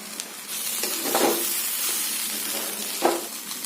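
Paneer pulao ingredients frying in a pan give a steady, loud sizzle throughout, broken by a couple of scraping stirs from a spoon, with no speech.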